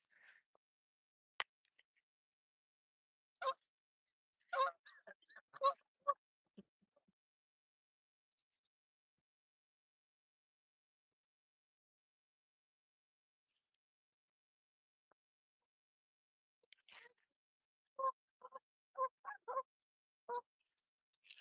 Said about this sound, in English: Hear those geese talking shit to me?